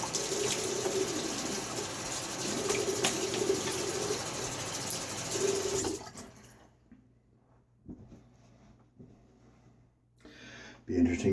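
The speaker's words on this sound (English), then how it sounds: "A little half rinse." A Fatip Piccolo safety razor is rinsed under running water: a loud, steady splashing stream for about six seconds, then it cuts off, leaving faint handling noises and a few short bursts near the end.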